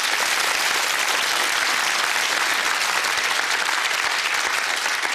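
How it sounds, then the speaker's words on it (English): Studio audience for a UK television game show bursts into loud, sustained applause, a dense, even wash of many hands clapping without a break. "Round of applause for Hugo"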